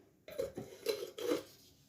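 The butt end of a paintbrush taps around the lid of a ceramic glaze pot, giving three or four quick, hard ceramic clinks close to the ear in an otherwise quiet room.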